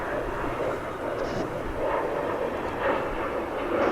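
Airplanes taking off at DFW Airport give a steady, loud jet roar that fills the whole stretch, swelling slightly in places with no break in the engine noise.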